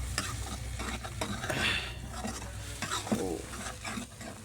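Tomatoes and masala for a baingan bharta frying in oil in a pan, a steady sizzle broken by repeated scraping stirs of a spoon, close and clear with no talking.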